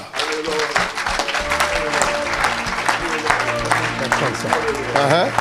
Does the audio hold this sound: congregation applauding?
yes